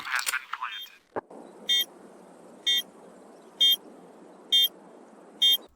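The new bomb beep in the video game Counter-Strike 2 sounds as five evenly spaced, sharp electronic beeps about a second apart over steady game background noise, following a brief click.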